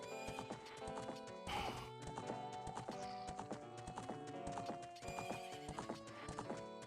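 A horse in the Ocarina of Time video game gallops with rapid, steady hoofbeats and lets out a loud neigh partway through. Game music and effects play throughout, with no talk.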